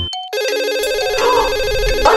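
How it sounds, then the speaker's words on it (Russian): A telephone rings with a loud, repeating electronic ringtone melody that carries on steadily after a brief start, set in a children's lesson on good manners. "Так это ваш телефон звонит."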